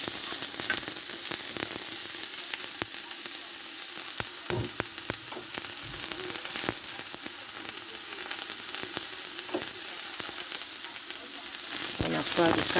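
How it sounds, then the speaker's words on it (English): Carrots frying in a pan for fried noodles with king prawns, a continuous close sizzle with scattered crackles and occasional stirring clicks, no speech. "I'm going to fry"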